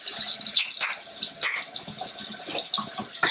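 Tap water gushes and splashes steadily into a sink while makeup brushes and a beauty blender are rinsed, close and continuous with irregular splashy surges.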